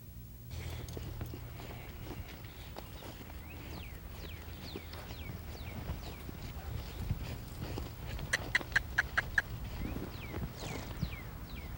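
Hooves of a horse under a rider clip-clop steadily on the ground during a riding lesson, a rhythmic mid-level patter with a brief run of sharper, louder strikes near the end.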